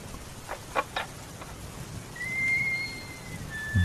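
Rain falls in a steady soft hiss as an effect for a midnight horror story, with a few faint thuds early on and a thin, high whistling tone drifting in later.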